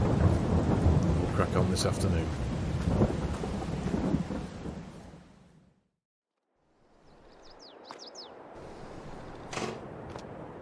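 Rain and rolling thunder in the farming game Farming Simulator 22 in Iowa, a loud dense downpour with thunder rumbles that cuts to silence midway, then returns more quietly with sharp cracks, while someone talks briefly over it.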